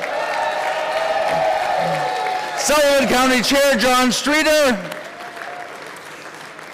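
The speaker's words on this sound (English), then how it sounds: "Let's give them all a big round of applause." A convention audience applauds in a short burst, loud and close, while someone speaks over it on a public address system, naming a county chair.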